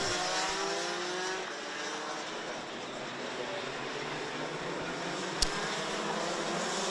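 Rotax DD2 racing kart engines rev together on the grid in a dense, steady buzzing drone, rising slightly in pitch, with one brief sharp click near the end.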